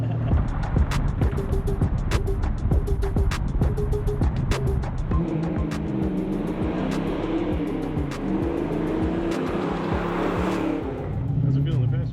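A Ford Mustang Foxbody with a 357ci Windsor V8 drives along, its loud, rough engine droning and revving steadily throughout while people talk inside the car.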